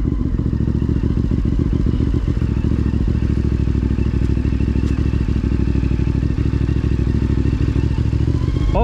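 A 450MT motorcycle with off-road mode engaged descends a steep off-road trail, its engine droning steadily and loud throughout with constant rattles, clatters and thumps from the rough ground.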